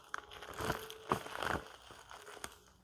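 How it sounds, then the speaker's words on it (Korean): A plastic bag holding cucumbers crinkles and rustles in several short bursts, close and fairly faint, with small crunches and pauses between the handling sounds. "물기를 완전히 제거한 오이를 비닐봉지에 넣습니다."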